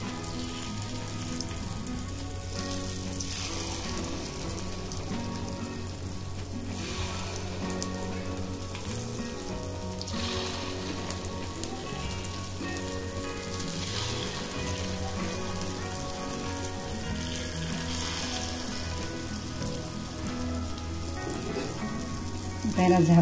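Rice-flour appe batter sizzling in hot oil in an appe pan, a steady close crackling and spitting like light rain that stays even throughout, with no talking.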